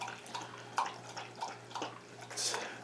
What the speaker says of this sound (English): So we'll get some water in the pan on the stove here just to put some humidity in the cabin.